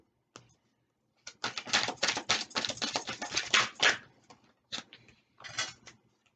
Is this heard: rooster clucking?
no